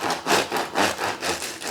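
A bread knife saws through crispy Cuban sandwich bread in several rhythmic back-and-forth strokes, close and crunchy, with no talking.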